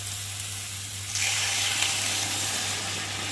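Water poured into sizzling fried spice masala in a hot pan sets off a sudden, louder, steady hiss about a second in, continuing close up with no talk.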